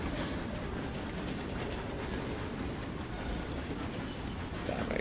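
In Red Dead Redemption 2, a train rolls along its rails with a steady, dense mechanical rumble and faint clatter that holds at an even, loud level for several seconds, with no talking.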